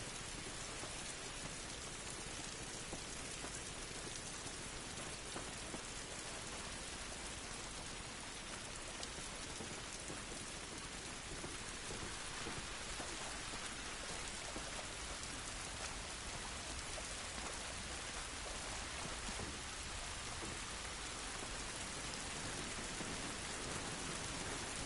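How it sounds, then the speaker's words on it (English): Steady rain falls outdoors in the video game The Last of Us Part 1, an even, hissing downpour that holds at constant level with no voices. "This rain ain't gonna do us any good."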